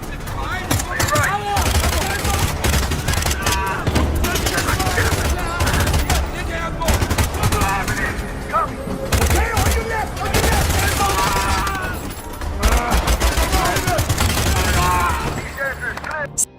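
Intense gunfire in an action movie shootout, dense bursts of automatic fire and rapid shots going on for the whole stretch, with shouted voices mixed under the shots.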